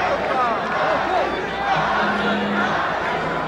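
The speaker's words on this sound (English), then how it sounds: "The crowd is starting to chant, Ali, Ali," A boxing arena crowd at the Muhammad Ali vs Trevor Berbick fight roars and chants Ali's name, a broad steady wash of voices with a commentator talking over it.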